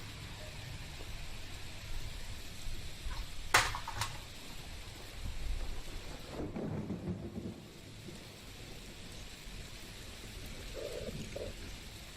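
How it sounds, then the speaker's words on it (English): A thunderstorm with steady rain hiss, a sharp crack of thunder and then a lower rolling rumble, continuous and moderately loud throughout. "The storm grows louder."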